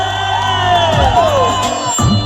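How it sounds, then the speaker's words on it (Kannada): Audience at a folk-song stage show, where contestant Abhay Madivadra is being introduced, cheers and whoops loudly, with shouted voices rising over the noise. "ಬರಲಿ ಒಂದ್ಸರಿ ಜೋರ ಚಪ್ಪಾಳೆ"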